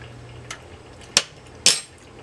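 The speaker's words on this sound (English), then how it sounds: "So I'm just gonna grab a spoon, give it a little taste." A spoon is grabbed near a pot of homemade apple chipotle BBQ sauce, giving two crisp metallic clinks about half a second apart after a fainter tap, close and clear over a quiet background.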